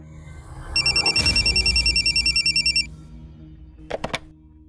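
A telephone rings for an outgoing call in a steady burst of rapid electronic trills lasting about two seconds, followed by a couple of short beeps.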